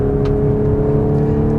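A 2015 B8 Audi S4 with Quattro drive pulls hard from low revs, its engine drone steady and close throughout a short burst of acceleration.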